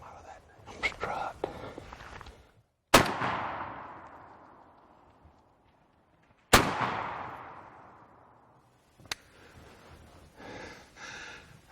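Two loud, close shotgun blasts fired at a strutting turkey during a spring hunt in a field in Kemper County, Mississippi, each with a long decaying echo, with whispered voices before and after and a sharp click near the end.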